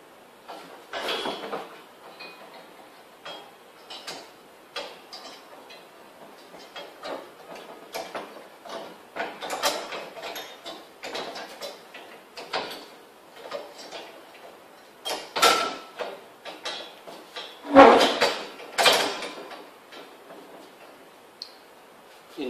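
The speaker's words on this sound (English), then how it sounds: "But now we install this frame on the machine." A frame being fitted onto a manual rice paddy transplanting machine, with scattered metal clicks, taps and knocks arriving irregularly over about twenty seconds, close by and moderately loud, one sharper clank near the end.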